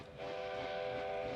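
A steam train in Back to the Future Part III approaches with a sustained whistle tone over a rumbling base that swells in after a brief quiet start.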